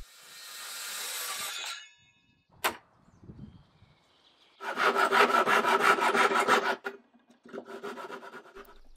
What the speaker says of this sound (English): use a piece of wood or something straight to guide the saw